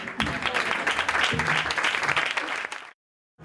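An audience applauds at a theatre premiere in Barcelona, with dense, sustained clapping from a full room that stops abruptly just before the end.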